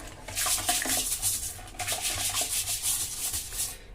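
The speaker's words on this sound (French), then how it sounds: "Et là, avec la brosse à chiottes, ça glisse." A toilet brush scrubs around a toilet bowl in quick, rhythmic back-and-forth strokes, a close, wet, bristly rubbing with short pauses between bursts.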